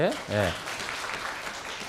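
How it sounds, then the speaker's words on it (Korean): Children's church service congregation applauding the kids who recited the Apostles' Creed; a soft wash of clapping follows a short spoken reply, modest and fairly distant. "우리 사도신경 외우는 친구들을 위해서 박수 한번 해주세요"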